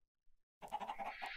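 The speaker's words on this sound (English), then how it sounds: "Oh, come here, chickens." Chickens in the video game Minecraft give a short pair of clucks, then a quick run of squawky clucking after a brief silence.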